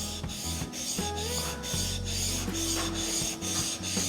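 A steel chisel is rubbed back and forth on a Pride Abrasives sharpening stone in steady, evenly spaced gritty strokes, close and moderately loud, with no voices.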